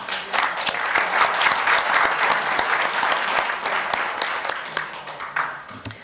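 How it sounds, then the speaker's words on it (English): A roomful of people at a Grand Forks city council meeting applauds for six seconds, a close, busy patter of many hands clapping at an even level throughout. "so give her a round of applause"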